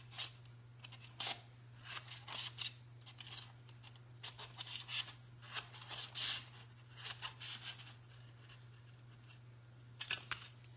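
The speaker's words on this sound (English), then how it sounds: "So I'm going to cut the top right off," Scissors snip through the top of a plastic ornament in a run of quiet, close, scratchy cuts and rubs, spaced irregularly over a steady low hum.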